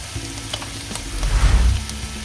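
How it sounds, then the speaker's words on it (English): Canned tuna sisig sizzles and crackles in a hot pan, briefly stirred with a soft scraping swell in the middle, close and steady. "sizzle it a little bit more"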